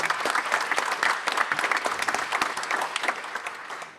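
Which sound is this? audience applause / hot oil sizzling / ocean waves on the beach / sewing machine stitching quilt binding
audience applause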